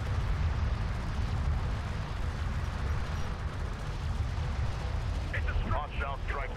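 Battle in Homeworld: Deserts of Kharak, with dense, continuous rumbling weapons fire and explosions filling the scene, a low heavy roar throughout, and brief radio chatter near the end.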